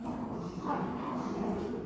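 Two dogs play-fight with low growls, yips and whimpery noises, a busy continuous scuffle at moderate distance.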